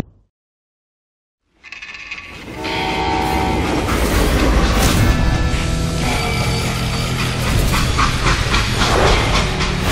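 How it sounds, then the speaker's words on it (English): A steam train from the Call of Juarez: Gunslinger game starts up after a moment of silence, then a loud, steady roar of rolling wheels, hissing steam and a long horn-like tone fills the rest of the stretch. "how'd they stop this train in the first place?"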